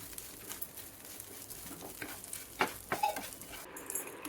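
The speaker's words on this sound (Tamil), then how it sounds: "போட்டு நல்லா வதக்கிட்டு லாஸ்ட்டாக ஒரு 5 கருவேப்பிலை 6 கருவேப்பிலை எல்லாம் மட்டும் போட்டு வதக்கி எடுத்துருங்க" Grated coconut and curry leaves sizzle softly in a pan while a utensil scrapes and stirs, with a few sharper clinks and pops standing out.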